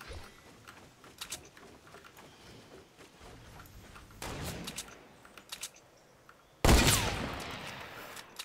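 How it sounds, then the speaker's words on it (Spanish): Gunfire in Fortnite Battle Royale crackles as scattered faint shots and short bursts at a distance, building to a sudden louder volley near the end, with no voices. "O sea, ¿desde dónde me disparan?"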